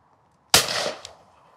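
A side-by-side shotgun fires once at a clay target crosser, a sharp blast that decays quickly, followed by a faint distant crack of the target breaking.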